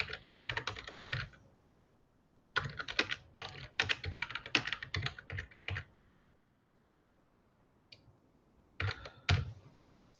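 Fingers typing text on a computer keyboard, close and crisp, in several rapid bursts of clicking keystrokes separated by short pauses and a lone tap, with no talking.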